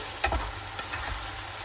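Chicken pieces fry in a pan with a soft sizzle, broken by a few stirring scrapes and light clatters near the start, moderately quiet and close, with no speech.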